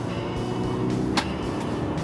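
Jaguar F-Pace SUV lapping a race circuit, a steady engine and road drone heard from inside the cabin with a brief sharp transient midway, no talking.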